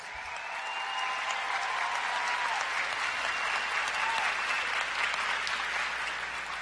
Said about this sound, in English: please join me again in a round of applause for our newly commissioned